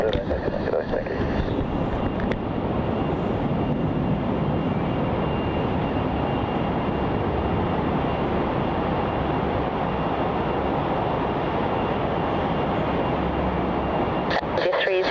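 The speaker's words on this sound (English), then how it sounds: "we have Jetstar flight 730 arriving in from Launceston, the A320 200." A Jetstar Airbus A320-200 airliner arrives at Melbourne Airport from Launceston, its engines making a loud, steady roar mixed with wind buffeting the microphone, with some speech heard at times.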